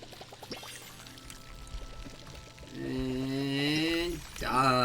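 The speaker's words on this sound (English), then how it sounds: "And let's water these, hey?" Water poured over plants in the farming life-sim game Palia, a bright splashing pour that swells in the second half of a short stretch, loud and steady with no talk over it.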